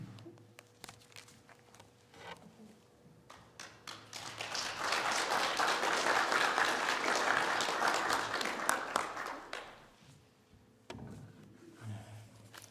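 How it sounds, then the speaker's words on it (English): An audience applauds after a presentation about mission work in Africa. Clapping swells to a full, steady round, then fades, with a speaker's voice before and after. "And quite appropriate to give applause."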